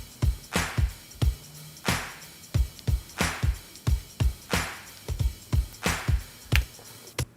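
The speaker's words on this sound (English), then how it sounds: "And then the claps at the end of the tune sound like this." Recorded hand claps close the end of a tune, a steady run of sharp, roomy claps in an even rhythm, loud and dry with no other instruments or voices over them.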